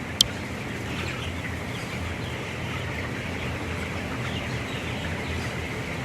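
A constant murmur of many broiler chickens clucking and chirping together fills an enclosed poultry house, with one sharp click near the start.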